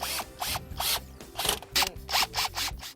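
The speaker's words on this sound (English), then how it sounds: "Then just install the corner screws into the header channel." Screws are driven into the windshield header channel of a Jeep TJ while a Bestop Supertop NX soft top is installed: a power driver whirs in short, rhythmic pulses, close up, about nine quick bursts with no talking.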